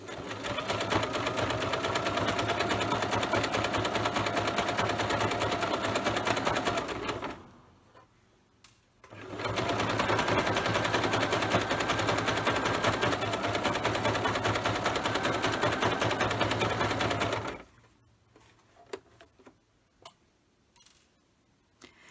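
Sewing machine stitching a fabric basket runs in two steady, loud bursts of rapid mechanical whirring, each about seven to eight seconds, separated by a short pause and followed by quiet handling clicks.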